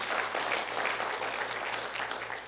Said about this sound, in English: Come on, somebody clap, lift your hands, do something for me.